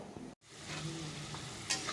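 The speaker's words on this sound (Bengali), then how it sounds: "আলু ভাজা বসিয়েছি দেখো" Potatoes fry in oil in a home kitchen pan, giving a soft, even sizzle at low volume, broken by a brief dropout and a light scraping stir near the end; no one speaks.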